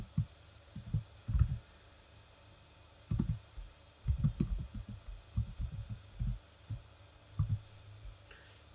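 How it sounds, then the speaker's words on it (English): Computer keyboard typing a command during a binary exploitation debugging session: irregular bursts of keystroke clicks, close and fairly quiet, with pauses between clusters and no talking. "Now let's type the same command."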